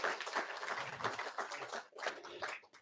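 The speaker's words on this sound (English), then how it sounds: "Yeah, we could applaud for that" A crowd applauding at a jazz centennial celebration event in a rippling, uneven burst, clapping continuous throughout at moderate volume.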